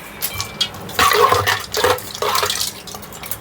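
Milk poured into a gond katira summer drink, a few short splashing, trickling bursts of liquid in a kitchen, close and moderately loud, with no talking.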